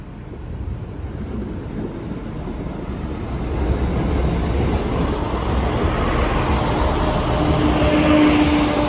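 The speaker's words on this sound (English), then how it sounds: "Train approaching." A train passes over Brayford level crossing as a steady, broad rumble that swells and grows louder midway and stays heavy to the end, heard alone without talk.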